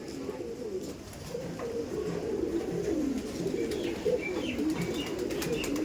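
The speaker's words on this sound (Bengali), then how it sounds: "আর এটা হচ্ছে মাদি পায়রা, খুব সুন্দর পায়রা।" Madrasi pigeons, including a hen, coo in low, soft, repeated rolls, close by with a steady murmur of surrounding bird noise and no talking.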